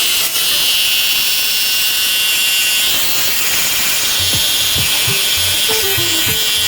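Cleaning water gun spraying onto a muddy step, a steady loud hissing spray running continuously throughout, with a few knocks and low thuds toward the end.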